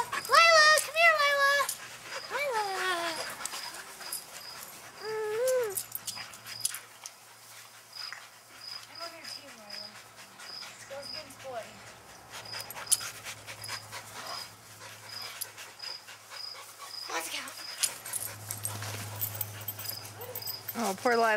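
A dog pants steadily close by with occasional high whimpers, while a person talks intermittently over it.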